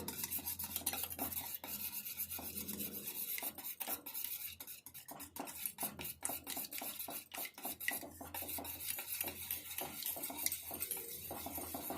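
Eggs are whisked by hand in a bowl until frothy, a fast, continuous run of close metallic clicking and scraping that keeps up a busy, even rhythm throughout.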